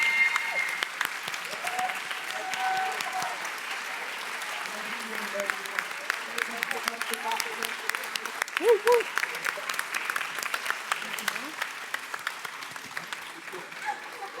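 Graduation audience gives a round of applause for the 2025 cohort at a civic leadership academy ceremony, sustained moderate clapping from a seated crowd with a few voices rising briefly over it.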